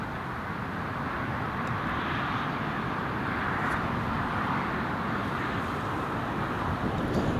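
An aircraft on approach into Newcastle Airport, arriving from Edinburgh, rumbles as a steady, broad roar through the whole stretch, with gusty wind buffeting the microphone on a windy day.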